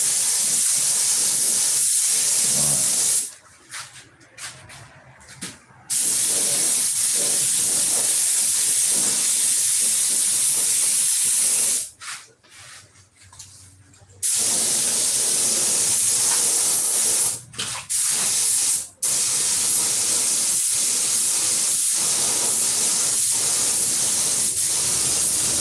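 Paint sprays onto a boat, its rudder included, as a loud continuous hiss that cuts off briefly a few times before resuming, close to the nozzle.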